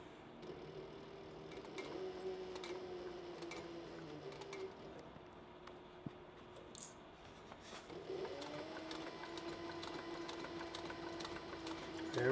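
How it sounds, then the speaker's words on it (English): A sewing machine stitches the seam of a cross-body sling bag in steady, close runs with a continuous humming whir, pausing briefly midway before starting up again. "I'll just keep sewing, and it'll get sucked right down into the seam"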